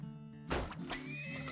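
Horses neigh in the strategy game Turmoil, with a loud whinny bursting in and a second call following close behind, then fading over a steady hum of game sound and some light hoof clatter.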